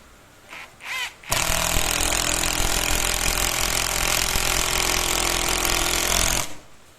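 A Ronix impact driver rated at 280 N·m drives a 7 cm (3 inch) screw at speed 2. A loud, continuous rattling hammer runs steadily for about five seconds before cutting off, with a few brief handling sounds beforehand.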